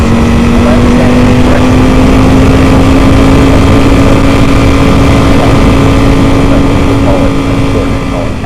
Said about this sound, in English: The other one is a full titanium Krapovich exhaust system.